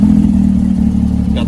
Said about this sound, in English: Got the Soul exhaust on this GT3.